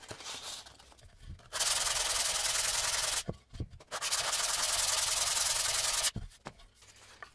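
Sanding block rubbed back and forth across a wooden cutting board, two long sustained passes of loud, steady hissing abrasion with short quiet pauses between, close up and without talk.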